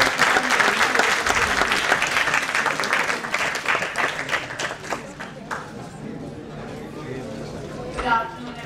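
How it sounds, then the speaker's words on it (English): Audience applause welcoming actress Dia Mirza, a dense, loud wash of clapping from a large crowd that gradually thins and fades, with a few voices and a brief cheer near the end. "A big round of applause."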